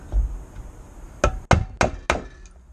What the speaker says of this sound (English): So I'm going to use a center punch